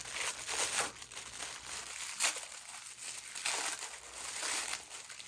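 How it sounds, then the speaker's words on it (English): Plastic packaging crinkles and crackles in continuous close-up bursts as a mini skein from a yarn advent calendar is unwrapped. No voices are heard. "Sorry for the crinkles."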